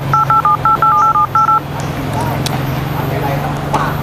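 A phone keypad sends a quick run of about seven short, evenly spaced touch-tone beeps, loud and clean, then falls silent over a low steady hum of outdoor background noise.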